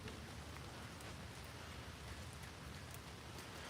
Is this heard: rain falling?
yes